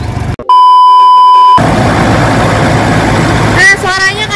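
A Toyota Kijang Innova engine idles with a steady low rumble close by, following a brief electronic beep, while a voice starts talking near the end.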